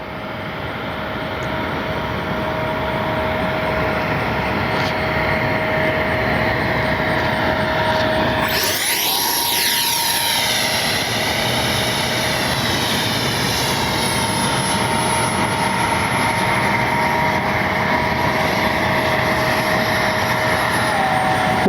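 An RC F-22 Raptor model with twin 40mm electric ducted fans flies in the morning, a loud continuous high-pitched whine that swells and sweeps in pitch as it passes close overhead mid-way, then drones on steadily.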